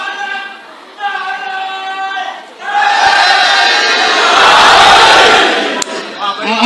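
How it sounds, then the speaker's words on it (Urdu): At a religious Jashan-e-Zahoor celebration for 7 Shaban, a leader's sustained call is answered by a large crowd roaring a slogan in unison, loud and close, swelling into a massed, dense shout. "ان 5 نعروں جیسا مجھے ایک نعرہ چاہیے"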